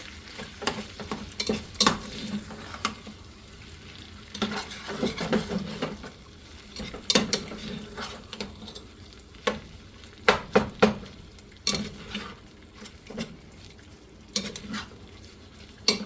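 Pork fried rice is stirred in a sizzling frying pan, with continuous frying hiss broken by repeated sharp scrapes and clinks of a utensil against the pan, close and fairly loud, with no talking.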